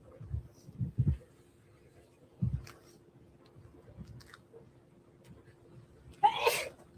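A single loud, sharp sneeze bursts out near the end, after some soft chewing and mouth noises in a quiet room.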